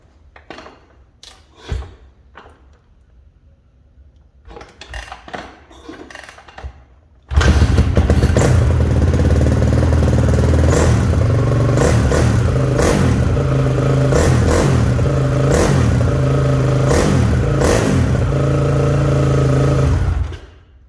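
A 2008 Honda CRF450R dirt bike, a $700 machine being revived, is heard after some quiet clattering: its engine fires up suddenly and runs loud and close for about thirteen seconds, with repeated rev surges over a steady roar before cutting off.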